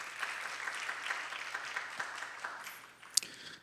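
Faint, distant applause from a congregation fills a church during a Sunday youth worship service, a soft patter lasting a few seconds with no one speaking.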